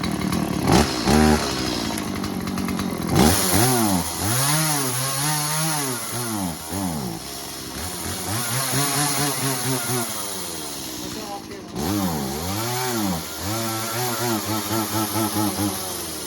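A Stihl MS 180c chainsaw fires on an easy pull and runs close and loud, its two-stroke engine repeatedly revving up and dropping back to idle in rising and falling sweeps, with a brief pause before another rev.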